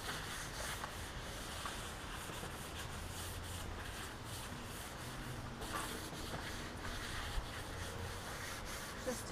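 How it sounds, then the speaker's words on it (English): A primed wooden window apron is sanded by hand, a faint steady scratchy rubbing that repeats in long strokes, heard close up and alone. "I'm just going to do a little sanding."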